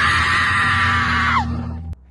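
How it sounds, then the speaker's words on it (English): People shouting and screaming loudly to scare off a protective mother bear, a sustained high yell from close by that breaks off abruptly near the end. "they raised their voices, shouting and screaming to discourage the protective mama bear."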